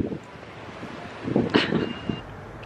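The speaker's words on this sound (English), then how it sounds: "I don't know if you can tell, but it's very windy" Strong wind outdoors on a cold day near a beach, with rumbling gusts buffeting the microphone that swell louder toward the middle before easing.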